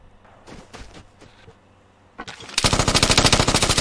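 Gunfire in the video game Vigor: a few scattered distant shots, then a close, loud sustained burst of rapid automatic fire.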